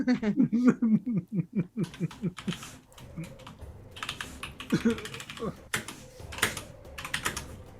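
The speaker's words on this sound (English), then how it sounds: "So you're gonna hear my loud keyboard" A loud computer keyboard clatters with rapid, vigorous typing during an online Dungeons & Dragons game session, following a stretch of voiced laughing sounds at the start.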